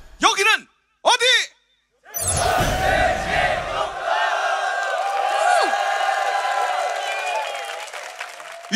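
Two short loud shouts from a voice, then a large crowd of soldiers erupts in a sustained roaring battle cry, whooping and cheering that continues to the end, at a South Korean army corps show.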